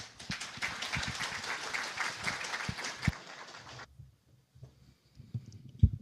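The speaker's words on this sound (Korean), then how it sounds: "뜨거운 박수로 맞이해 주십시오" Audience applause greeting a presenter at a smart grid business talk, dense clapping for about four seconds that then stops abruptly, leaving a few faint knocks and rustles in a quiet room.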